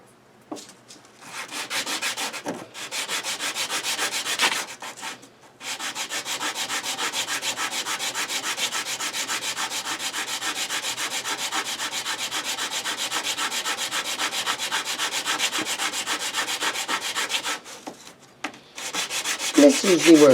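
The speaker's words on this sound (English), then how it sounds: "I'm just going to lay a piece of sandpaper here. And I'm just going to sand on this nut and get it to be smaller." A guitar nut is rubbed back and forth on a sheet of sandpaper, producing steady, close, gritty scraping in long continuous strokes, with a few brief pauses between passes.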